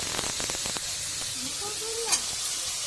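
Capsicum and beans sizzle and hiss steadily in a pan for fried rice, with some stirring clatter and a faint voice over the frying.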